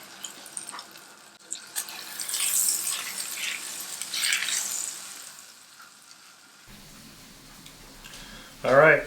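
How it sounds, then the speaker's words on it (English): A dry-aged, sous vide ribeye sears in butter in a hot frying pan, a bright hissing sizzle that swells and fades, with a person speaking over it and a brief clatter at the end. "Going to heat up our frying pan with some butter and just give them a quick sear."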